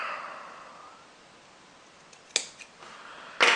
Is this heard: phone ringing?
no